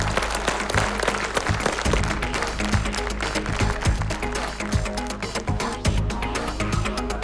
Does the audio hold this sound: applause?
yes